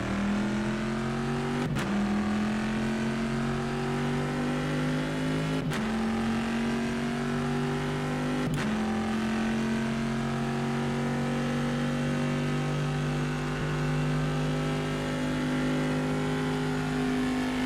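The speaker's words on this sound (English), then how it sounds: "The car noise. It just sounds awesome, and it sounds pretty much spot on to the real life Corvette." Corvette race car engine in the rFactor 2 EnduRacers mod, a steady loud drone that climbs in pitch through the gears, with three sharp upshift breaks cutting the tone, running alone without voices.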